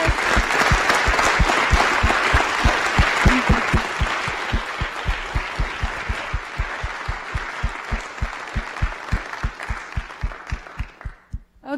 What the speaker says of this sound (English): let's give Harold White one more big round of applause.